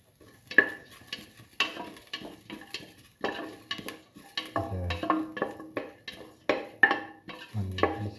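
Ginger sizzles and fries in a hot pan while being stirred, with repeated scraping and clattering strokes of a utensil against the pan at an uneven rhythm, close and fairly loud, no voices.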